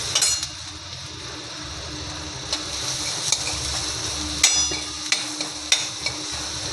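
Red masala and a little turmeric being stirred in a pan, soft scraping and frying sizzle at close range, with a handful of sharp utensil clicks against the metal.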